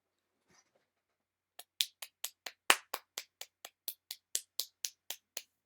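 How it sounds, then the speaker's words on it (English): Slow, soft golf clap: about fifteen separate hand claps in an even rhythm, close and isolated against quiet, after a faint brief rustle. "Golf clap. Golf clap."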